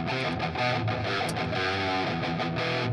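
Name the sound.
distorted guitar tone in Rocksmith 2014 video game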